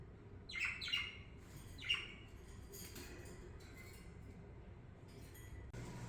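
Pet birds indoors give a few quick squawks and chirps early on, fairly close but quiet, then only soft room noise with faint scattered sounds.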